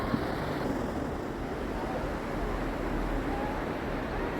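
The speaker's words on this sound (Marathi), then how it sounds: "तो पाण्याचा खळखळाचा आवाज" Continuous low rumble of surf and water rolling at Malgund beach, steady and fairly loud, with wind noise and no voices.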